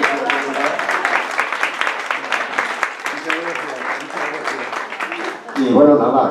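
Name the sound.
audience applause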